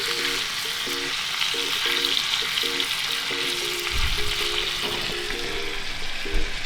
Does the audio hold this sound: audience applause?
no